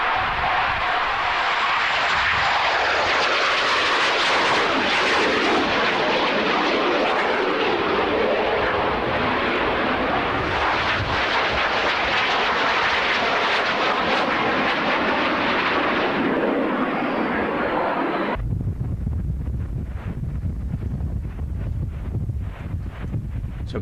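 Invader aircraft passing overhead outdoors, a loud sustained broadband engine roar heavy with wind buffeting on the microphone, fading abruptly to quieter wind noise near the end.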